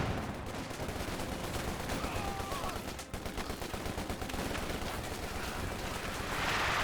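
Artillery smoke barrage in Company of Heroes 2 amid a battle, dense overlapping bursts of gunfire and booming impacts rumbling continuously, loud and crowded.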